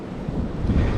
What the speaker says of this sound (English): sorry about the wind. It's really windy today.